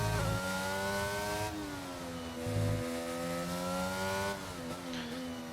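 A McLaren race car in a racing video game tears across grass far off the track through chicanes, its engine a loud, steady high-pitched whine that rises and shifts pitch with several gear changes, alone without voices.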